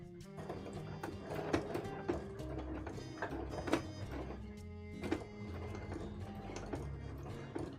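A sewing machine stitches slowly through thick fabric during embroidery work, giving a steady mechanical whir with soft repeated thunks and ticks, fairly close and alone.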